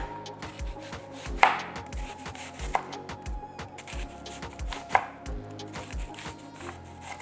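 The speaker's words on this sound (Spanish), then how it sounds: "También voy a cortar una cebolla." A knife chops a halved onion on a cutting board with steady, close, sharp taps that come at a quick even rhythm, several louder knocks among them, and no voices.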